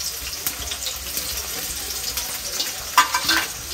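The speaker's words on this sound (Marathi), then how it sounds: "गॅस मोठा ठेवला आहे आणि कांद्यासोबतच ती परतवते." Capsicum and onion sautéed on a high flame, a soft continuous sizzle with scattered crackles and a few sharper scraping stirs near the end, heard close and alone.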